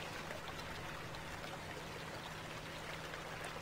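A waterfall in the video game Saints Row 2 gives a steady, dense rushing wash of flowing water, soft and continuous with no talk, plus a faint low hum throughout.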